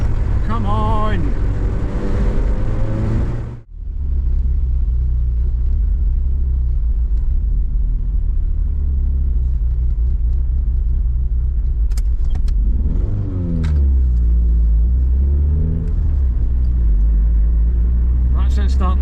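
A Vauxhall Cavalier's C20XE engine with a suspected head gasket fault runs at night in London, a loud steady low rumble that carries under talking at the start and again later.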